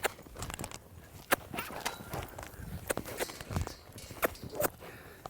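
A horse being worked through stops and turns in a cutting-horse style demonstration at an equine expo, its hoof falls landing as sharp, uneven clip-clops over steady background noise, with no talking.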